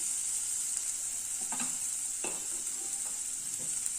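Ingredients for tomato rice sautéing in a pan, a steady hiss of frying with two or three soft stirring scrapes partway through.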